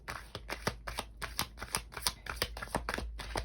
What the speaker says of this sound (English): we're going to shuffle these cards and see if we can get any more information